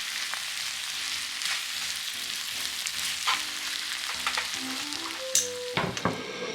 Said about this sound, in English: Mix the bonito flakes all over the udon noodles.